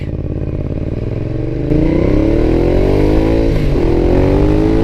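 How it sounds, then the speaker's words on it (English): A 2012 Ducati Diavel motorcycle engine revs up close, its loud rumble rising in pitch after an idle, then dipping and climbing again; no one speaks. "This is what a Ducati Diavel sounds like."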